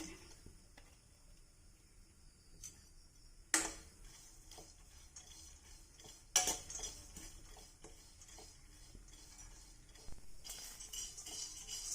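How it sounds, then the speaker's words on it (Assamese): Pumpkin seeds dry-roasting in a hot wok on a gas stove, giving scattered metallic ticks and clinks from stirring, with a few sharp louder scrapes standing out over a faint background. "এতিয়া মই ধুনীয়াকৈ শুকান কেৰাহীত ভাজি ল'ম।"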